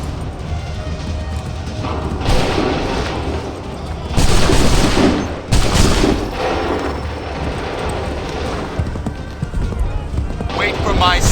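Musket volley fire in Assassin's Creed III Remastered, heard as loud broadband blasts in the middle of a battle scene, with hoofbeats and shouted commands mixed throughout.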